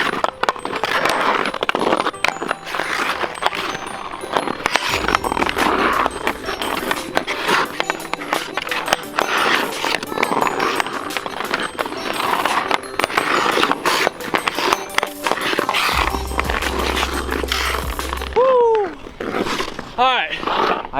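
Ice hockey stickhandling on a frozen outdoor pond, with steady scraping and clacking of stick and puck on ice and skates carving, continuous and fairly loud, with voices and breathing mixed in.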